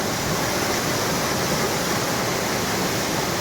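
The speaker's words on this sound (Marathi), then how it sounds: "धुक्यामध्ये धबधबा आहे दुर्गराज वॉटरफॉल असं या वॉटरफॉलला म्हटलं जातं" Durgraj waterfall in the misty Sahyadri hills roars as a steady, dense wash of falling water, loud and continuous throughout with no other sounds.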